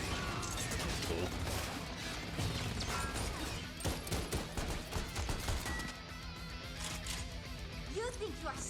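Rapid bursts of gunfire and impacts ring out during a Fortnite match, with dense crackling shots, smashes and mechanical clatter running nearly continuously, overlaid by game sounds.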